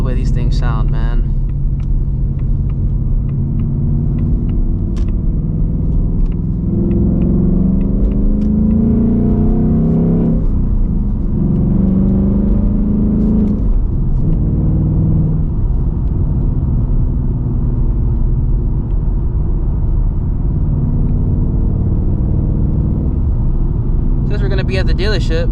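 A 2024 Ford Mustang GT V8 engine rumbles steadily from inside the car while driving, with low droning revs rising and falling throughout and someone talking over it near the start and end.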